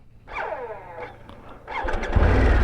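A Harley-Davidson Pan America Special motorcycle engine cranks with a hesitant, squealing starter whine in two short bursts before catching and firing into a louder, rough idle, close up with no talking.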